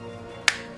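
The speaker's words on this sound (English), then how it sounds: "Can I try to snap my fingers so it works?" A single crisp finger snap, close and sharp, stands out against a quiet background hum.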